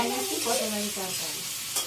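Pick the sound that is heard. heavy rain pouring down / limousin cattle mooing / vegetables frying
vegetables frying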